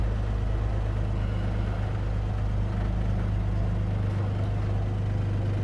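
A 1953 Dodge pickup truck rolls down the road, its engine a steady, loud low rumble with road noise running continuously throughout, no voices over it.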